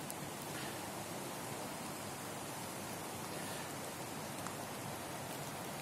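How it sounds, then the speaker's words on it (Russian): Light rain falls steadily in Izmailovsky Park, a soft even hiss of drops on leaves and ground, with a faint distant city rumble underneath and no voices. "шум города слышен, но и шум легкого дождя тоже"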